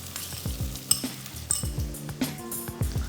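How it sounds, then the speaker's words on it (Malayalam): Fish curry masala with onions and curry leaves being stirred in a pan, a soft sizzle beneath repeated quick clinks and scrapes of a spoon against the metal. "അങ്ങനെ ഒന്ന് ഇളക്കി കൊടുക്കാം."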